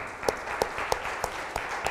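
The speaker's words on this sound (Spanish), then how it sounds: "Démosle un buen aplauso a Cristo." A church congregation claps in unison, sharp regular beats roughly three per second over a softer bed of scattered clapping and a faint murmur of voices.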